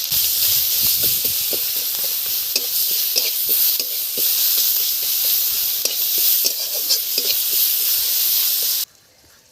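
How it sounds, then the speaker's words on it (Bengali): Onions frying in hot oil after a cumin-seed tempering give a loud, steady sizzle with scraping stirring clatter throughout, then drop away abruptly just before the end. "জিরে ফোড়ন দিয়ে দিলাম, দিয়ে পেঁয়াজ দিয়ে দিচ্ছি"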